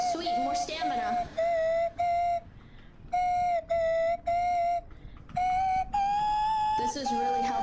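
A slide whistle played in a video game toots a run of clear, bright notes, each held briefly with short gaps and some sliding in pitch, loud and close.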